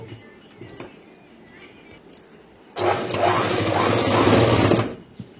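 An electric sewing machine stitches a boys' school uniform pant in one fast, even whirring run of about two seconds. Quiet fabric handling comes before it.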